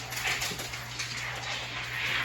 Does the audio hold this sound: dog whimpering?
yes